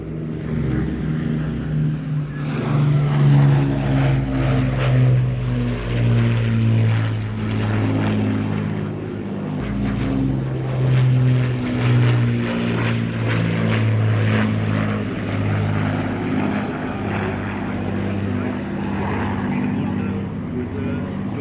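A propeller aircraft flying at an air show, its loud droning engine note steady and near with rising and falling pitch throughout, while a commentator talks over it.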